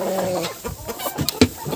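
Crested roosters on a small farm cluck in short, uneven calls close by, with brief louder squawks breaking through the scratchy barnyard noise.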